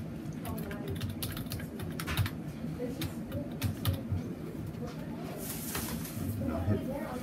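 A user ID and password typed on a computer keyboard, a run of quick irregular key clicks close by, with brief speech and a cooing pigeon in the background.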